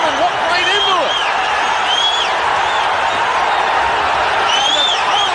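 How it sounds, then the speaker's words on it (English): A boxing crowd at George Foreman vs Ken Lakusta in 1990 roars loudly and steadily after a knockdown, with whistles and shouts rising above the dense cheering, under a commentator's voice. "And the crowd going wild."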